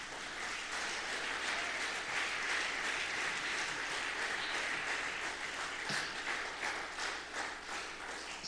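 A church congregation applauds, a dense, steady wash of many hands clapping at an even level throughout, moderately distant and without speech over it.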